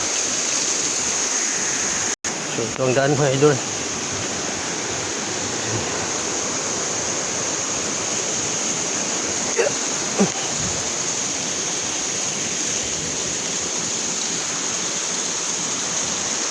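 A forest waterfall swollen after a storm, a steady loud roar of falling water throughout, with someone speaking briefly near the start.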